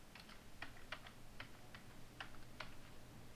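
Keys tapped on a computer keyboard, a sparse, uneven run of crisp clicks spaced a fraction of a second apart over a constant low background hum.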